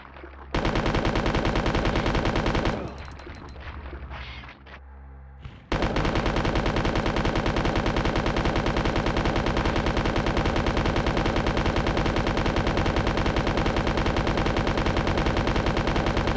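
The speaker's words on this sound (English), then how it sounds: "How much ammo did that take? Almost half of my machine gun ammo." A machine gun fires at a boss in Resident Evil 2 in long, loud, rapid bursts. One sustained stream of shots breaks off briefly partway through, then resumes and runs unbroken to the end.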